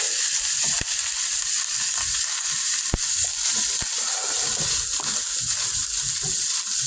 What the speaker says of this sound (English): Alright, now I'm going to return the meat to the pan.